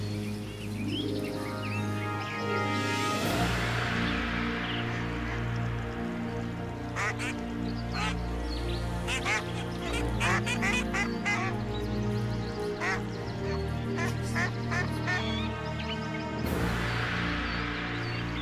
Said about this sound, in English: It is well known that ducks and geese are the most cautious among the wildlife when it comes to their choice of habitat.